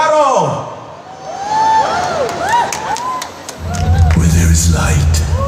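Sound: audience applause and cheering for cosplayers

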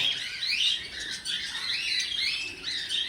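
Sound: birds in an aviary, likely lovebirds

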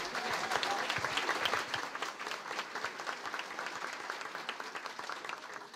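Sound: audience applause at a congress

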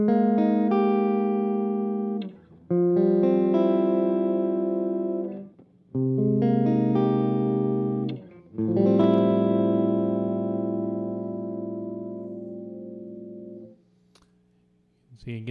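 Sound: electric guitar through VVT X-40 amp, overdrive with boost

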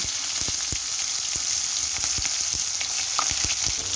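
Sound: onions frying in oil in a pan

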